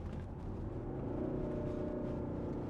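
A steady low diesel engine rumble from a 2014 Volvo V70 2.4 D5 Geartronic on the move, droning continuously with a slight rise in pitch partway through.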